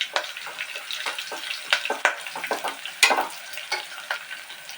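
Curry leaves, black pepper and cumin are stirred in hot oil in a pan for khara pongal: lively sizzling and frying crackle punctuated by repeated scraping strokes of a spoon, close up, with no voices.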